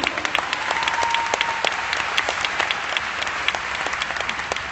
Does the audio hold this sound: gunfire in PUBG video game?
no